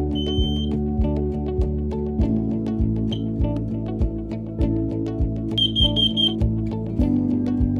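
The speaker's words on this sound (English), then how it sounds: "The alarm will beep and stop flashing its lights when linked to the control unit." An FHN800HIA smoke alarm chirps in short high beeps while linking to its control unit, a few isolated ones and then a quick cluster, over a steady low machine hum.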